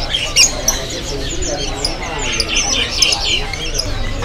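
Many small songbirds at a bird market keep up a dense chorus of high chirps and tweets, with occasional squawks close by and scattered across the whole stretch.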